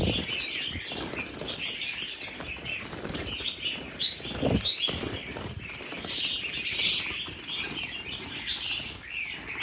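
Red-whiskered bulbul (chào mào) birds chirp and call in repeated bright bursts, close and fairly loud, mixed with fluttering wing sounds and a brief thump midway.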